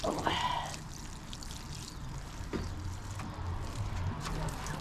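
Water pours from a watering can onto dahlias in a garden, a soft, faint splashing trickle that runs steadily for a few seconds.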